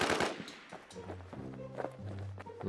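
Bursts of gunfire from the shooter game Infestation: The NewZ crackle loudly at the start, then quieter shots and thuds follow over a droning in-game tone.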